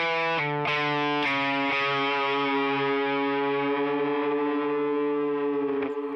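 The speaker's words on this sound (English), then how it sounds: "you put reverb on that last note on the 4 while you bend it up to the 5 and back down" An electric guitar note sustains loudly for several seconds, its pitch bent up and back down, with reverb and some distortion ringing it out; a few sharp picking transients sit near the start.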